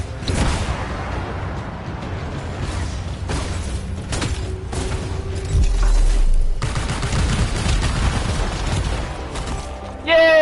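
Explosions and rumbling blasts in the video game Anthem, a dense run of booms and crackling bursts over about ten seconds, loud and close, with game voices talking over parts of it.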